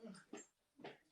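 A pet dog whimpers indoors in three short, high, nasal cries with brief gaps between them, faint and close.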